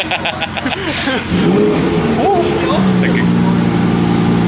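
A Lamborghini Aventador on its stock exhaust revs hard at a cars-and-coffee meet, its loud engine surging and holding a strained roar, with people talking and shouting over it.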